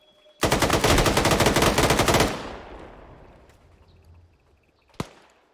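A long, loud burst of automatic gunfire in Ghost Recon Advanced Warfighter lasts nearly two seconds, then echoes away into quiet, followed by a single sharp shot shortly after.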